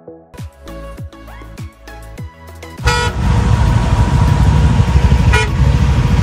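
Dense road traffic on the route from Manali to Solang Valley, opening with a string of short loud car horn toots, then a heavy engine roar with another honk cutting through near the end.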